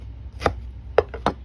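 A knife chops through a pineapple in three distinct cuts, each a short crisp thunk spaced a fraction of a second apart, close and clear against a quiet background with no speech.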